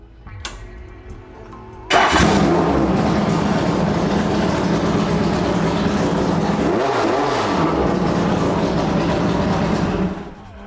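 A classic car engine cranks briefly, then catches and roars to life, running loud and steady at close range with a couple of revs partway through.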